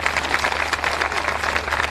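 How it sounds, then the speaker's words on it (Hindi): An outdoor political rally crowd claps in a dense, continuous patter at moderate distance, a brief burst of applause without voices on top. "जरा इधर वालों की तालियां सुने मोदी जी के लिए जरा"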